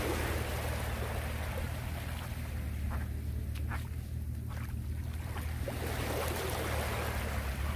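Ocean waves on the Korean coast, a steady full roar of surf with deep low rumble and broad hiss, continuous and close, no voices over it.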